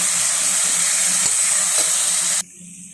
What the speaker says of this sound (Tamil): இதில் மட்டனை போட்டு ஒரு 2 நிமிஷம் அப்படியே வதக்கணும்